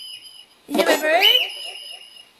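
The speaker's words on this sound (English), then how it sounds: "You hear my bird?" A pet bird whistles indoors in a single bright, sweeping, warbling burst lasting under a second, over a faint steady electronic tone.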